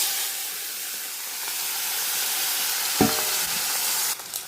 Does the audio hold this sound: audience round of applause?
no